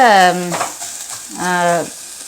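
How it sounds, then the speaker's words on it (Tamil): Vegetables frying lightly in a home kitchen pan give a steady soft sizzle, broken by two squeaky scraping stirs of a utensil against the pan. "சும்மா லைட்டாக ஃப்ரை பண்ணிக்கலாம்"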